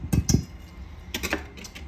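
A fork clinks and scrapes inside a bowl while mixing the dry flour mixture for banana bread, two sharp taps first, then a quicker run of light scraping strokes.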